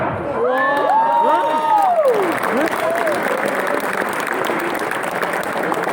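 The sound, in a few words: audience applause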